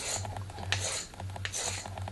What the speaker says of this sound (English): Keep filing and rotating